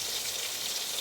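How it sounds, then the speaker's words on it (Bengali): Grated paneer sizzles in a pan of capsicum masala, a steady close, even frying hiss across the whole moment with no talk. "দিয়ে দিলাম গ্রেট করা পনিরটা।"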